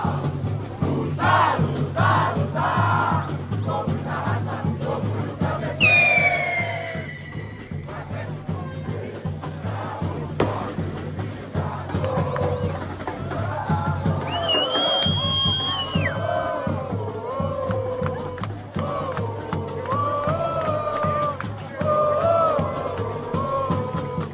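Galo football supporters chant and cheer outside the club headquarters at a vigil, a large crowd roaring in sustained waves with whoops and shouted calls rising above the mass of voices.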